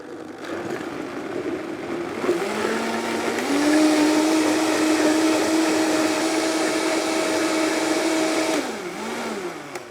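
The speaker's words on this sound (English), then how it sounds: "hot food into a blender, taking this top off and starting on low and then blending." A blender purées hot broccoli, spinach and pea soup, starting on low and then rising in pitch to a steady whirring drone before winding down near the end.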